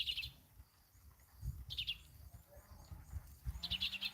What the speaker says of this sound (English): Just listen to the birds right now.